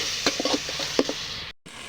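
Beef being sautéed in a pan with green chillies, chilli powder and whole garlic: a close sizzle broken by quick spatula scrapes and taps, then a sudden brief cut to silence before the sizzle resumes.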